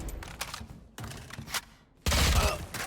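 Gunfire in a competitive match of the video game Valorant: a few sharp, clipped shots scattered over the first two seconds, then a louder, denser burst of rapid fire at the end.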